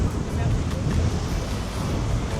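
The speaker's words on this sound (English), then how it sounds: "The Bora wind makes the seas choppy, as you can see." The Bora wind blows hard over choppy autumn sea at Krk, Croatia, a loud, steady rushing roar that buffets the microphone throughout.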